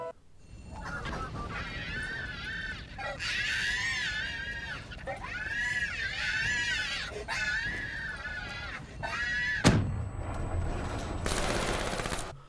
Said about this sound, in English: if you actually chuck a monkey bomb in it, it will actually start to scream.